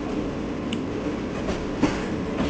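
The Kanchan Kanya train runs through Bolpur station at night, a steady rolling rumble with rhythmic wheel clicks and clatter heard from on board.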